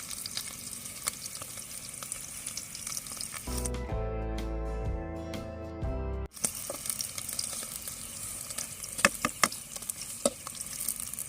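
Onions, green chillies and coriander fry in a pan for a village-style chicken fry, giving a steady close sizzle with stirring scrapes, interrupted midway by a few seconds of music before the sizzling resumes.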